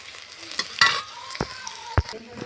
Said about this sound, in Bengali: ওই তেলের মধ্যে আমি এখন কাঁচা লঙ্কা, শুকনো লঙ্কা, পাঁচফোড়ন,